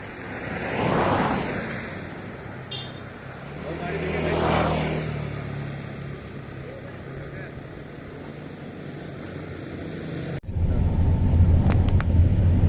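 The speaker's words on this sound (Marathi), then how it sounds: "गाडी बघा, गाडी बघ, धावत नको येऊ." Cars pass on a road near a beach on Nusa Penida, each one swelling up and fading away, twice in a row over constant wind buffeting. People talk nearby, and a loud gust of wind noise hits at the end.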